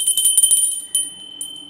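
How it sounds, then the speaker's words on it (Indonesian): A hand bell used to mark changes of activity in monastic life rings in a quick cluster of bright, close strikes, then sounds twice more, with sustained high tones lingering between strikes. "saya membawa lonceng"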